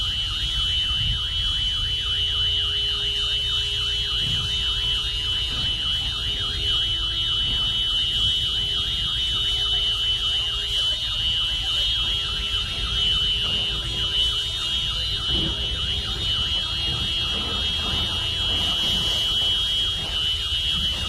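A car alarm blares after a car crash in Russia, cycling through a repeating warble and beeping pattern continuously over steady background noise, loud and nearby with no talking.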